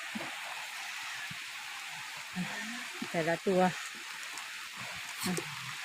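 Steady rain hisses in the background while a person speaks briefly and a few goat calls and voices break through near the middle, as goats eat corn in heavy rain.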